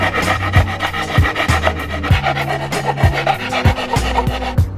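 Metal file rasping along rough plastic panel edges during a Miata trunk air suspension setup, steady back-and-forth strokes, close and fairly loud with no talking.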